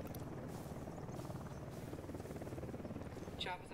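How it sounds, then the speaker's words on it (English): A helicopter approaches in the Ghost Recon Wildlands video game, a steady, quiet rotor thrum with a rhythmic chop that holds throughout, ending in a brief higher whine. "Chopper's approaching."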